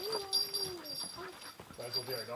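A dog on a mountain hiking trail in New Hampshire's White Mountains gives soft, rising whimpers and a few yips, close by and fairly quiet, with faint voices mixed underneath.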